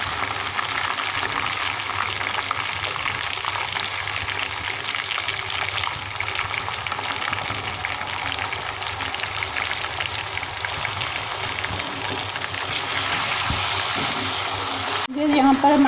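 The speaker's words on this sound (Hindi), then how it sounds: "अब गोश्त को हमने जो है कम से कम 7-8 मिनट अच्छी तरह भूनना है" Meat for raishe wala haleem is fried (bhuna) in a pan, giving a steady close sizzle and crackle that runs continuously, with occasional stirring and a brief clatter near the end.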